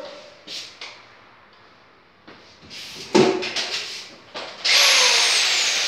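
Some handling clatter and knocks, then a power drill whirs up loudly near the end, a high steady spin.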